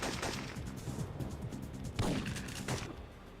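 Gunfire in a shooter video game, loud rapid bursts of shots with booming impacts clustered around the middle, crowding the whole clip without any talk.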